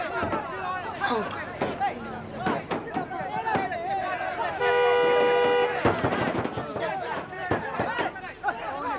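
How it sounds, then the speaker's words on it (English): A car horn blares in one sustained honk lasting about a second, near and loud, cutting through a busy scene full of voices and crowd noise. "Honk at them."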